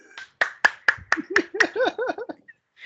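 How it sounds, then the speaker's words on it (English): A run of crisp, evenly spaced hand claps, about ten in a row at a brisk pace, with a voice joining partway through. "Everybody clap your hands!"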